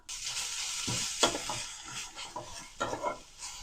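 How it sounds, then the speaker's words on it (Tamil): Ridge gourd peel and grated coconut being stirred in a hot pan for a Tamil ridge gourd chutney, with a steady close sizzle broken by several scraping stirring strokes. "அந்த ஹீட்லே கொஞ்சம் நேரம் அப்படியே பரட்டி விட்டுக்கலாம்"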